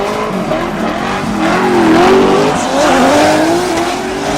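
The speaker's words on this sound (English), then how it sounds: "Man, that car from Troy Manor sounds pretty damn mean" A drift car's engine roars loudly and continuously at the 2017 CSCS drift finals, its pitch climbing and falling as it revs, with tires squealing across the pavement.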